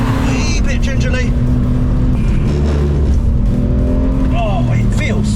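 Budget supercar or E46 M3 accelerating hard, flat out in second and shifting toward third, a loud continuous engine roar filling the clip with rising pitch sweeps, captured from inside the car.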